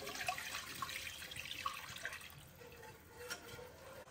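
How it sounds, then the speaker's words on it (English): Milk poured into a pan while making mac and cheese, a soft steady liquid trickle and splash with faint drips, close by and fairly quiet, no talking. "Now I'm going to get the milk in."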